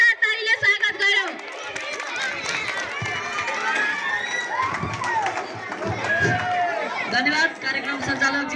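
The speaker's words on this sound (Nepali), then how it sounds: "जोरदार तालीले स्वागत गरौँ।" An audience at a Class 12 farewell ceremony at Shree Arun Secondary School in Dingla claps and cheers to welcome a speaker, a dense, steady wash of applause mixed with shouts and crowd chatter that lasts throughout.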